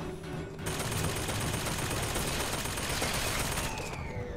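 An automated turret in the BioShock Infinite video game fires a sustained, rapid stream of gunshots lasting several seconds, loud and continuous, then cutting off abruptly, with no voices over it.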